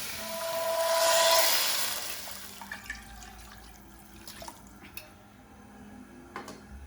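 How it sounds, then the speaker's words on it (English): Water pours into a beef soup pot being filled to nearly six quarts: a rushing stream swells for about two seconds, then fades into scattered drips and small splashes. "I'm going to fill the water to almost completely full, which is that it's almost 6 quarts"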